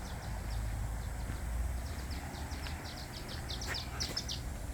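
A bird near a building outside sends a rapid series of short, high chirps that grow louder and closer toward the end, over a low background rumble.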